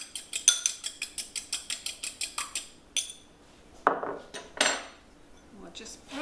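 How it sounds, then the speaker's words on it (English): A fork lightly beats one egg white in a bowl, a quick even series of about sixteen clinking taps, then a few louder scattered knocks and scrapes, close and clear. "Beat 1 egg white lightly with a fork"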